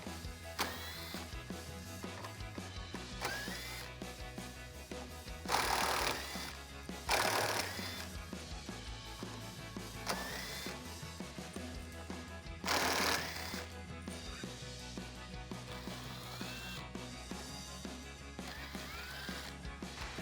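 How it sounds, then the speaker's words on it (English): Ratchet with a 7mm socket removes small screws from under the weather strip of a 2015–2022 Ford Mustang front bumper area, giving close, irregular clicking and whirring bursts over a steady low hum, with no talk. "I'm just gonna use a 7mm socket to get those out"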